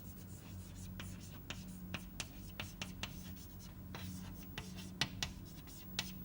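A lecturer sketches a graph on a board, soft repeated taps and strokes of the writing tool spaced irregularly over a low steady hum, quiet and close.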